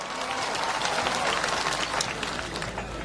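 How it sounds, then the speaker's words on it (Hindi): Loud, dense applause from a political rally audience, steady sustained clapping throughout with a faint crowd murmur underneath. "इसलिए एक बार जोरदार तालियां आप सबके लिए।"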